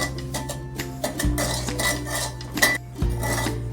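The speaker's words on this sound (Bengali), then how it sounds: "নুনটা কিন্তু শুকনো খোলায় নেড়ে নিতে হবে" Salt being stirred and dry-roasted in an empty pan for homemade mango pickle: close, repeated scraping and rattling of a utensil against the metal, with short bursts of clinks over a quiet kitchen background.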